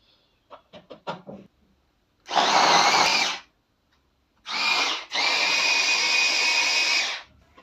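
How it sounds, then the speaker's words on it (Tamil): An electric chopper cuts small onions in short loud whirring bursts: a brief pulse, then a longer run, after a few light clicks of handling. "ரெண்டே செகண்டில் சின்ன வெங்காயம் பொடிசாக கட் பண்ணி நம்மளுக்கு கொடுத்துறது பாருங்கள்"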